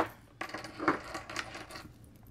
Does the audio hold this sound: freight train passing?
no